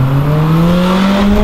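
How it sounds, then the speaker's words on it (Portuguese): Subaru cars accelerate in a loud continuous engine whine that rises steadily in pitch, close and alone. "um monte de Subaru acelerando"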